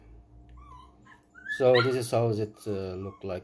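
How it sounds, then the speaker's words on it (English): Puppies barking and whimpering in the background, with a few high yips early, then someone speaking clearly over them close up. "Sorry about the puppies barking in the background."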